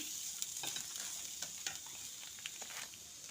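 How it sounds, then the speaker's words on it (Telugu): Stuffing with chilli flakes fries and gets stirred in a pan, giving a faint, steady sizzle with scattered light scraping clicks throughout and no talking. "తర్వాత చూడండి వేగుతుంది."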